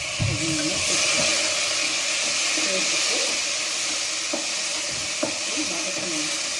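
Onion, ginger and garlic sautéing in a pan for vada curry give a steady, close sizzling hiss, with a few soft clinks of stirring scattered through.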